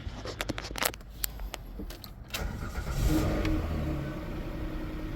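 A car engine, jump-started with the cables hooked up backwards, catches and revs up with a rising mechanical roar, loud and close, preceded by scattered clicks and rattles.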